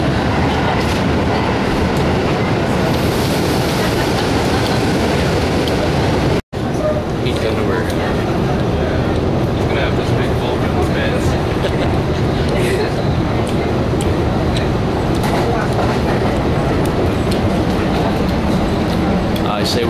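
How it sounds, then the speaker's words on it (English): Interior of a train bound for Tokyo, a steady loud rumble of rolling wheels and carriage noise with faint clatter, running continuously with one brief dropout; people talk over it. "we just got on the train to Tokyo"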